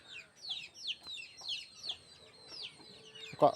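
Household chickens that come pecking when hungry cluck in a quick run of short, fairly close calls, with a louder squawk near the end.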